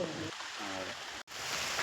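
Rain patters steadily as a soft, continuous hiss at low level during a temple festival, with a brief dropout near the end and no talking.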